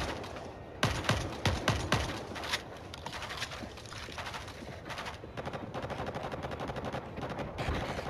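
Assault-rifle fire in the World War Z game's Moscow level: dense rapid bursts of shots up front, then a continuous rattle of gunfire and background battle noise with no talking.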